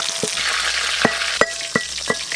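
Pieces of rohu fish fry in hot oil with a continuous close sizzle. Several sharp clicks and scrapes of a utensil moving the fish punctuate it at irregular intervals.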